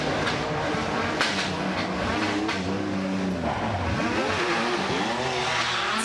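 A Porsche rally car on a forest rally stage at the Festival of Speed, its engine roaring and revving loudly and steadily nearby as it drives through the stage.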